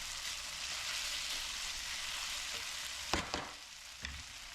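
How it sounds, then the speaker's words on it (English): Potatoes fry in a pan with a constant close hiss and sizzle, broken near the end by a few clattering stirs of a utensil. "Potatoes in. After these start to brown, we'll start adding seasonings to it."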